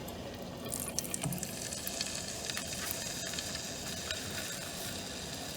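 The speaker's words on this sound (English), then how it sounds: "You can hear it start to sizzle" Steaks sizzle in a hot pan for a Southern Italian steak sandwich, a steady close hiss broken by a few crackles and pops.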